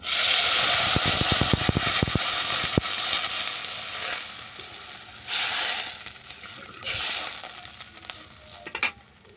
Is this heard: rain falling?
no